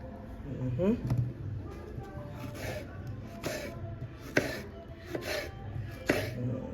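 A knife chops a tomato on a board in a series of crisp, separate cuts at an irregular, unhurried pace, with a voice talking faintly underneath.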